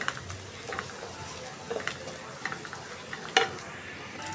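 Sliced onions fry in hot oil for a pulao birista, giving a steady soft sizzle with occasional clicks and stirring taps, moderately close.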